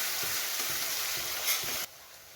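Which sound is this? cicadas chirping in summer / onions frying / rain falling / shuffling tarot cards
onions frying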